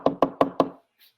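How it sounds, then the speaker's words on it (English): A door is knocked on boldly, four quick, evenly spaced knocks that sound loud and close, followed by brief silence. "They knocked boldly on a door."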